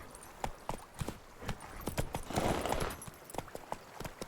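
Geralt's horse Roach gallops in The Witcher 3, rapid rhythmic hoofbeats close by and fairly loud, with a brief swell of rushing noise midway.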